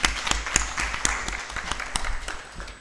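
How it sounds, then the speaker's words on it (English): Audience applause for a minister at a demographic dividend seminar, a brief burst of scattered, fairly close claps that thins out toward the end. "Another round of applause for the Minister."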